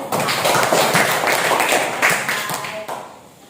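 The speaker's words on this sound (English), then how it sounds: "Give applause to all of you." Students in an Indonesian classroom applaud together, a dense patter of many hands clapping close by for about three seconds before fading out.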